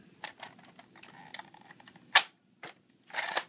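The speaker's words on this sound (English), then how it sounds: "Wow, dry fire." Dry fire of a Tek Recon toy blaster: a few sharp plastic clicks and snaps spaced out over a quiet background, one crisp snap standing out, followed by a short rattling burst.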